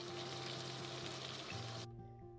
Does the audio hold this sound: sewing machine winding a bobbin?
no